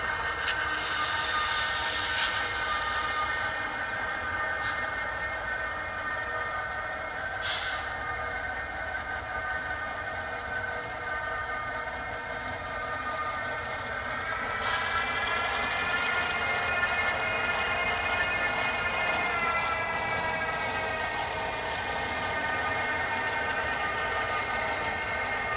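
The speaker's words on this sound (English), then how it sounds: "we're moving some trains around, folks, so we can run on the other half of the layout" HO scale model trains with Tsunami sound units run on a Western Maryland layout, giving a steady, unbroken rumbling drone with sustained tonal whistle or horn-like notes throughout.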